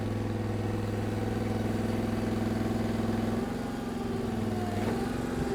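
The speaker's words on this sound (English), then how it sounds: "Now I'm going to suck the boom back in." An Equipter 7000 retracting its boom, a steady droning engine hum with hydraulic whine, shifting pitch partway through as the boom draws in, no talk.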